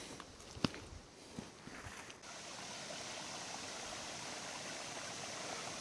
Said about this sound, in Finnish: Puro on lirinä vaan voimistunut